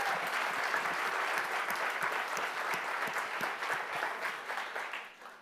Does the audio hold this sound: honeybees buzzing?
no